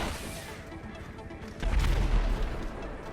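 Heavy gunfire and a deep explosive boom as a helicopter is destroyed in GTA V on PS4, louder in the second half, with rumbling low impacts and a voice speaking faintly in the background.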